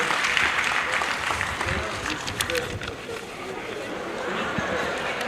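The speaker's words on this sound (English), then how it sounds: "A round of applause." An audience at a promotion ceremony for military officers and men bursts into loud, sustained applause that lasts several seconds, with voices chattering in the crowd.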